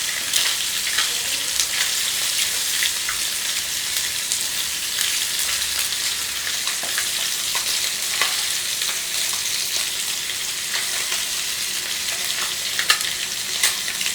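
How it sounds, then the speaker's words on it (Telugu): Small nethallu fish fry in masala in a pan, giving a dense, continuous close sizzle with occasional light clicks, steady throughout and without talk. "ఇదిగోనండి మసాలాలో వేగినాయి, ఇంచుమించు అయిపోయినట్టే."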